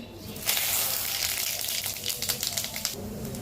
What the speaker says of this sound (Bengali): এবার তেলের ভিতর দিয়েছি তেজপাতা আর জিরে ফোড়ন